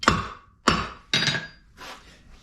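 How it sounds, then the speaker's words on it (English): Four sharp metallic hammer taps on an anvil, pressing a part into a Toyota Tacoma front control arm, evenly spaced and ringing briefly, the last one softer. "I just use a hammer and tap it in."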